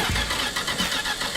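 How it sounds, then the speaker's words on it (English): A Plymouth Road Runner car engine cranks with uneven pulses, then catches and runs with a rough, steady rumble, close by. "All right, let's see if it cranks."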